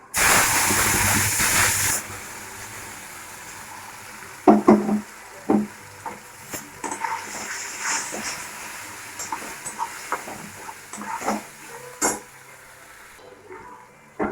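Ground spice paste frying in hot oil with turmeric, a steady loud hiss for the first two seconds that gives way to quieter sizzling broken by sharp stirring clatters and scrapes of the pan.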